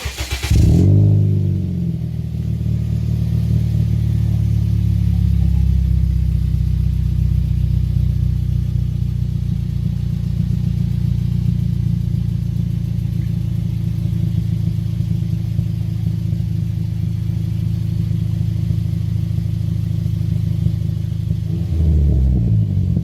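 A Toyota Vios Gen2 fitted with an aftermarket straight-through exhaust cranks and fires up, then holds a loud, deep, steady rumble close by for about twenty seconds before shutting off.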